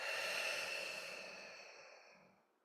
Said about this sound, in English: take one more big breath through the nose, fill up all the way. And then open mouth exhale to release